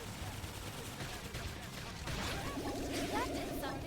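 Gunfire in the Xenoblade Chronicles X video game, a dense rattle of shots in quick bursts over a constant battle din and music, mid-level in loudness, with voices talking at the same time.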